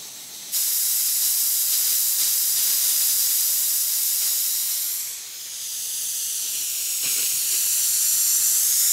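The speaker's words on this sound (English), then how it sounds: "all the sprinklers were just blowing air" Compressed air hisses steadily out of irrigation sprinklers as the system is blown out for winter, a loud continuous spray that dips briefly and then resumes.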